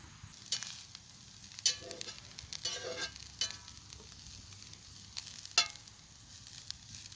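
Wild mushrooms fry in a pan, giving a steady low sizzle with occasional louder crackles and stirring scrapes, close and alone without talk.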